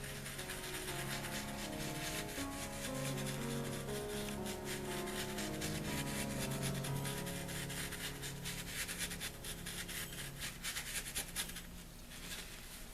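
Chunky embossing powder is rubbed by hand onto a Christmas card, giving a soft, continuous dry scratching and rubbing at close range, faint and steady throughout, with no speech.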